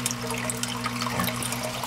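Water spilling from an aquarium filter outlet into the tank like a small waterfall, a constant nearby splashing and bubbling over a low steady pump hum, no voices.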